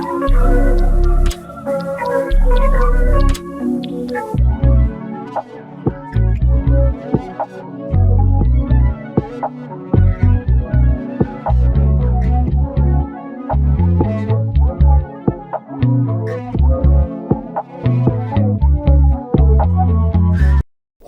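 Textured R&B sample built from just two minor-key chords moving from the four to the five, playing continuously and loudly with layered harmonic tones and a low bass foundation, no voices.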